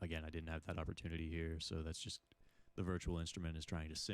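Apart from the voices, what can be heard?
None of the usual background noises is heard.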